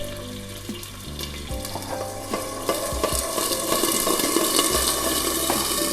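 Clams stir-fried in a pan over high heat, a steady loud sizzle with scraping and stirring knocks, building in intensity toward the end, with no talking.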